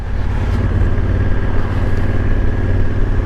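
A steady Honda Africa Twin motorcycle engine drones at a constant pace while riding, with rumbling low end and wind noise, no talking.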